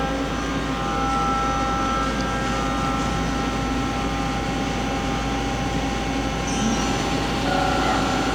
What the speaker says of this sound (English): Spindle's currently running at 500 RPM.